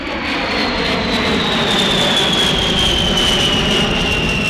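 A B-52 jet bomber, the huge American Air Force plane, roars overhead at an airshow, its loud steady engine rumble filling the air with a slowly falling whine as it passes.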